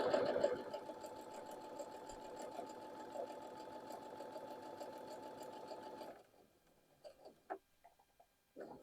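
A home sewing machine fitted with a quarter-inch foot stitches a quilt seam in a steady, close, fast whirring run for about six seconds, then stops, leaving a few soft handling bumps.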